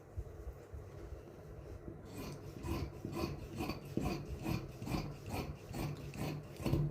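Scissors cut through fabric for a dress frill, a soft rasping rhythmic snipping that grows a little louder partway through, close and quiet with no talking.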